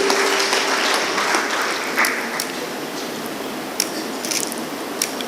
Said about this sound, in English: Once again, clap for you.